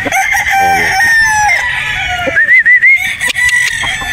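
A Boston Roundhead broodstag rooster crows loudly and close, with clucking and other fowl calls around it in a windy farm setting.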